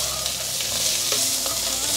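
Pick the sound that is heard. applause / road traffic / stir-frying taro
stir-frying taro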